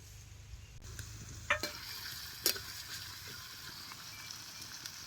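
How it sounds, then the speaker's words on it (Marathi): Mustard seeds, green chilli paste and crushed ginger-garlic sizzling in hot oil in a pan, a steady crackling fry with occasional sharp pops and light stirring scrapes, close and fairly quiet. "आता हे चेचलेलं आलं लसूण बी यात घालायचं."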